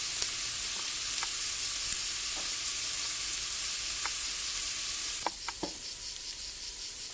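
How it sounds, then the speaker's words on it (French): Onions that have browned well fry steadily in a pan for poulet basquaise, a continuous close sizzle with occasional utensil taps and scrapes, a few sharper clicks near the end, no talking. "Les oignons, ils ont bien bruni. On va pouvoir y ajouter les poivrons."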